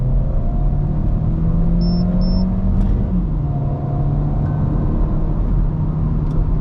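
A 2018 Volkswagen Beetle 1.2 TSI Sport pulls away at about 58% throttle, its engine a steady, loud drone with a slight shift in pitch midway, heard from inside the car.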